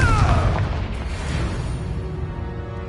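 The Confringo blasting spell detonates in the video game Hogwarts Legacy as a loud, deep boom that opens the moment and fades into a long rumbling tail.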